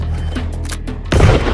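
A burst of gunfire at the end is loud and rough and rises out of a steady low rumble, with a few faint thuds before it. No one talks.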